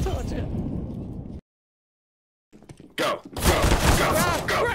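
Gunfire in a Counter-Strike (CSGO) match, bursts of close shots that cut out abruptly into silence, then resume loud and dense amid game noise, with a voice talking over it.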